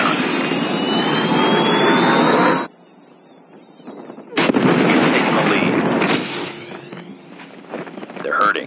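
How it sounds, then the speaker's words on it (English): Call of Duty Mobile multiplayer match with a Predator missile strike, loud roaring jet-like rush and heavy explosive rumble alongside gunfire, briefly dropping before surging again, with game voice callouts over it. "Friendly Predator missile inbound."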